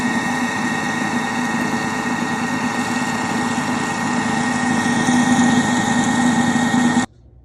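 Thermomix TM6 whisking vegan pistachio cardamom ice cream: a steady, close mechanical motor whir with a constant tonal hum, running evenly and then stopping abruptly just before the end.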